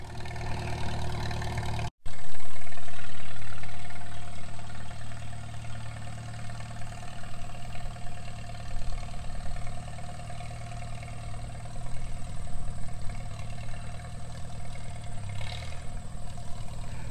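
Engine of a wartime H tractor running in first gear, a steady low droning idle-like rumble close to the microphone, with a loud surge near the start before settling into an even hum.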